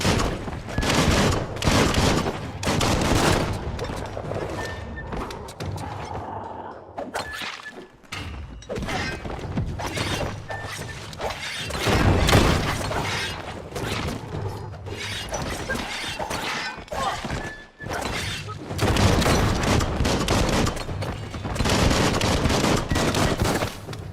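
Rapid bursts of gunfire in the video game Biomutant, dense automatic fire and impacts crackling almost continuously with short pauses between volleys.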